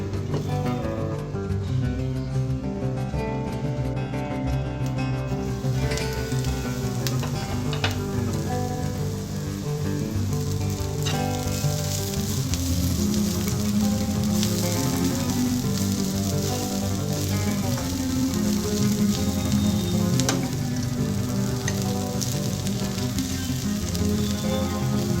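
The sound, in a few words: bitter gourd (karela) pieces frying in a pan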